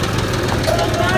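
A Mahindra 265 or Sonalika 35 tractor engine runs steadily with a low, knocking idle throughout, while voices talk loudly over it.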